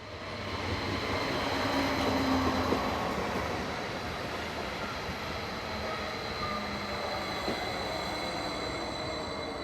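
A train bound for Biel rumbles steadily past at moderate distance, a continuous broadband roar of wheels and carriages with faint rail tones, holding level for about ten seconds without voices.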